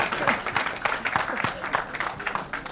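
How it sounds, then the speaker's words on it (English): Audience applause for the cast and crew at a film trailer launch event, a dense patter of clapping that runs throughout with voices and crowd noise mixed in. "huge round of applause for the cast, for the crew, for the team of Preeti Ali"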